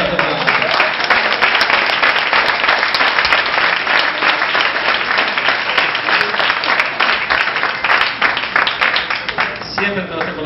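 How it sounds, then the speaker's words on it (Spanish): A church congregation applauds loudly during a sermon on perseverance, a dense, sustained wash of many hands clapping for about ten seconds, tapering slightly at the end. "Un aplauso fuerte para nosotros."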